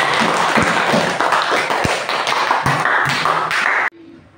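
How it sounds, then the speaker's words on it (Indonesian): A classroom gives a student a burst of applause after an answer, with dense, fast clapping and sharp taps running steadily for almost four seconds before it stops abruptly, leaving a quiet room. "Oke, aplaus untuk dia."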